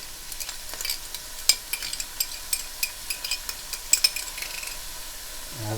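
Tomatoes are added to a pan of frying garlic and vegetables, giving a steady close sizzle broken by repeated clinking scrapes of a spoon stirring, with no voices.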